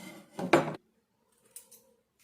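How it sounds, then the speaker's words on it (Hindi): Scissors snipping a date palm leaf: one crisp double cut up close, then two faint quick snips after a short pause. "कैंची ने काटी देम"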